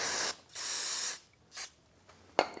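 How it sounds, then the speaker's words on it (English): Two sustained hissing bursts from an aerosol can of solvent sprayed on the front brakes of a Jeep Grand Cherokee, each about half a second to a second, followed by a shorter puff and a brief click. "give it a quick spray with some solvent"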